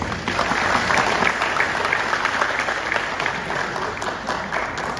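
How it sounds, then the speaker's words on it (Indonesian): Crowd at a Nahdlatul Ulama centenary event applauding, a loud, even wash of many hands clapping that holds for several seconds before easing slightly. "Bapak Kiai Haji Dimyadin. Kita beri aplaus"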